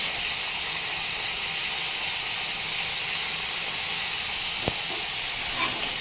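Fried pointed gourd and prawns hit hot spice paste in a pan, giving a steady loud sizzling hiss throughout, broken by a single sharp utensil clink.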